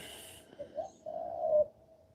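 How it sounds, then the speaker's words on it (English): A pigeon gives one soft, low cooing phrase that swells and then stops, faint and somewhat distant in a quiet indoor setting. "There's a pigeon calling."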